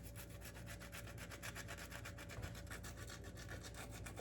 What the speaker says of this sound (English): Just rub it with the garlic.